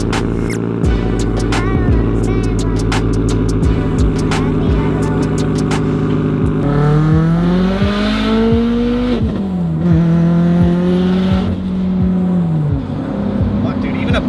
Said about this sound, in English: So let's get this WRX started.